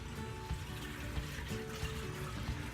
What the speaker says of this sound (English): So now I'll siphon water from this tank down to here